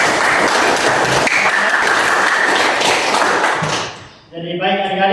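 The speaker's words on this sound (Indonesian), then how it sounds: "Oke, mari kita beri aplaus." A classroom of students claps together, with dense, steady applause for about four seconds before it trails off and a voice begins speaking.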